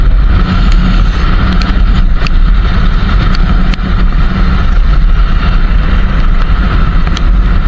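Strong wind roars continuously across the microphone during a monsoon motorbike ride, a loud, unbroken buffeting rush with no clear voices.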